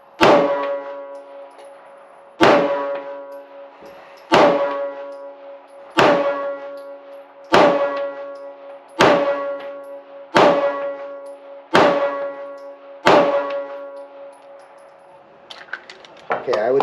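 Shots from a Springfield Hellcat RDP pistol fitted with a compensator, eight sharp reports spaced roughly every one and a half to two seconds, each ringing out with a metallic decay, with a brief scuffle of small noises at the end.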